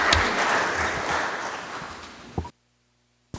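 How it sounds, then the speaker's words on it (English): A congratulatory round of applause at a general assembly session rises as a dense wash of clapping, gradually thins, and then cuts off abruptly into near silence. "let's give him a congratulatory round of applause"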